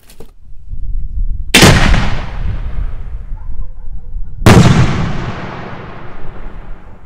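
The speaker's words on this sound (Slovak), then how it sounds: "Gulová bomba 100 mm, Brocade Crown, Red Straw Pistol" A 100 mm ball shell firework with brocade crown and red straw pistol effects bursts twice, each a loud sharp boom with a long crackling, hissing tail, the second about three seconds after the first, with no voices.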